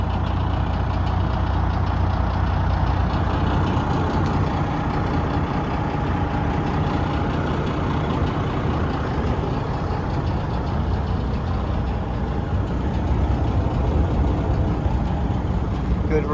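A 2014 Peterbilt 389 glider kit truck with a 12.7L Detroit engine and 310k miles idling, a loud, steady low rumble held close throughout, with faint talk underneath.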